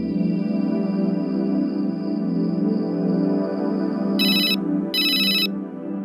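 A phone ringtone chirps in two short bursts near the end, following a steady electronic hum.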